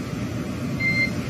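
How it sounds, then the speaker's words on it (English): Short electronic radio beeps from a SpaceX Dragon launch communication loop sound faintly over a soft hiss of background noise, with two quick tones close together. "you'll be hearing those very characteristic beeps"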